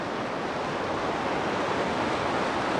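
River water rushes past rock boulders set to break the current in a Chilean Andes valley, a dense, continuous roar of steady flowing water with no voices.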